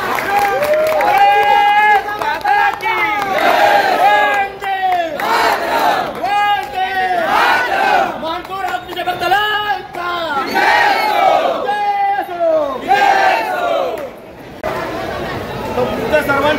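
A large crowd at a Dahi Handi event in Khar East cheers a visiting Govinda troupe, with loud, rhythmic group chanting and shouting that rises and falls continuously in repeated waves.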